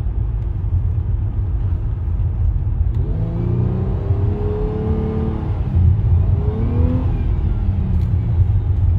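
A 2014 Nissan Maxima 3.5S with a 3.5-litre V6 revving hard as it accelerates, a deep throaty exhaust roar climbing in pitch with gear changes, loud and close, no voices.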